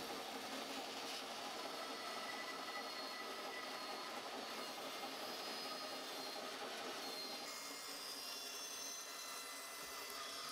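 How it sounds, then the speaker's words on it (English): A large bandsaw resaws lengths of 4x2 timber, giving a steady, dense whirring cut that holds evenly for the whole stretch at moderate distance, with no talking. "I can use the big old bandsaw to resaw it."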